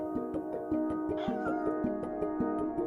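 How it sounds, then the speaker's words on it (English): A cat meows in the video game Stray, a drawn-out mew rising and falling midway through, heard over a steady game soundtrack with rhythmic low pulses, moderately faint. "It's a cat."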